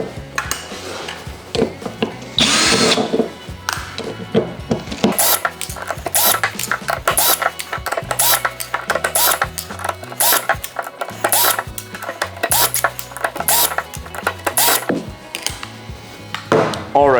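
A power screwdriver backs screws out of the outer ring of a Hellfire wheel, producing a dense, continuous run of ratcheting, whirring mechanical clatter with metallic rattles, loud and close, with no talking.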